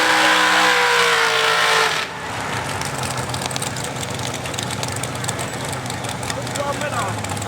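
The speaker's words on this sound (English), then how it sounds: "Doing a John Boyer's burnout." A 4x4 mud truck does a burnout at Wes Rail Spencer Speedway, a loud revving engine roar with spinning tires that drops abruptly after two seconds into a steady rumbling drone, close by.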